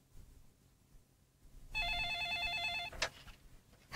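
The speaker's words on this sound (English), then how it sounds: "Suddenly, the phone rang." A telephone rings once with a bright electronic trill of repeated rapid pulses, lasting about a second in a quiet room, then a short click.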